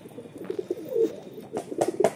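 Madras pigeons in a rooftop loft give several soft, low coos in uneven bursts, close by, with a faint background hiss and no talking.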